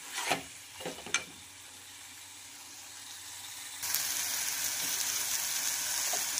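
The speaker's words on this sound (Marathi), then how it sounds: "वांग्याचं भरीत छानपैकी आपलं परतून झालेलं आहे।" Mashed eggplant brinjal bharit sautéed in a pan: a few close spatula scrapes, a short lull, then a steady, even sizzle that holds to the end.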